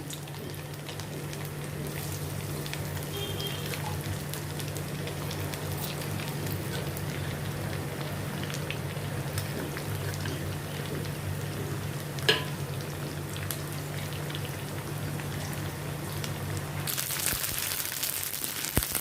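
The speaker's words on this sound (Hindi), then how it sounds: "इसी तरह मैं अभी ये बाकी की भी जो है फ्राई कर लेती हूँ।" Macaroni fries in hot oil for homemade masala kurkure, giving a steady, dense crackling sizzle throughout with a low hum beneath and a slightly brighter burst near the end, with no talking.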